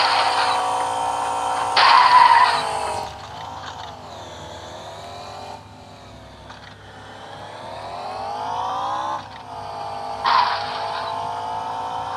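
A car drifts in the video game Indian simulator GT auto, its engine revving and sweeping up and down in pitch with bursts of tyre screech, loud and continuous without talk.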